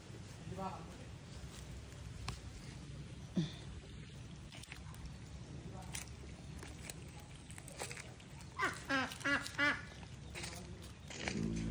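A duck quacks in a few brief bursts outdoors among plants, with a short run of quacks near the end, heard under people talking and rustling background noise.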